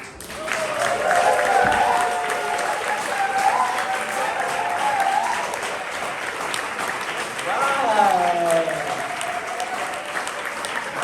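Audience applause for a poet at a spring poetry slam, a sustained clapping roar with cheers and whoops rising over it and a voice calling out near the end.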